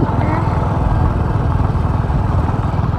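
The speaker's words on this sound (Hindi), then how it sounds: "निकल रही फुल फैमिली बाइक पे आए हुए" A motorcycle carrying a whole family runs with a steady, close engine drone throughout, while voices talk over it.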